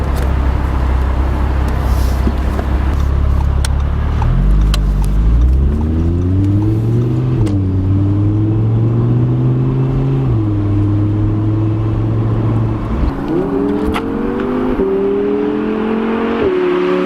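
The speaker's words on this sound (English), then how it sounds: "I'm barely touching the gas pedal and I'm shooting down the road trying not to get a ticket here" A 2018 Audi R8 Spyder sports car accelerates down the road, its engine rising through gears in long sweeping climbs with a shift near the middle, loud and close over steady road roar.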